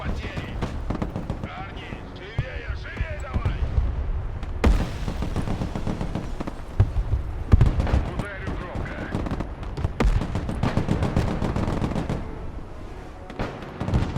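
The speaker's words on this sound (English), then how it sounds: "They're mortaring us." Mortar rounds land in the Broken Arrow game, a rapid, irregular barrage of sharp blasts and crackling impacts over a dense battle din, with someone talking over the noise.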